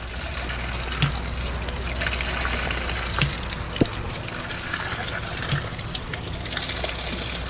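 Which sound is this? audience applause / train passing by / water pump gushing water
water pump gushing water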